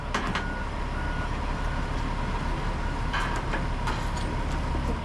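A John Deere 844 wheel loader moves in reverse, its backup alarm giving a run of sharp, evenly spaced beeps over a low, constant machine rumble from a moderate distance.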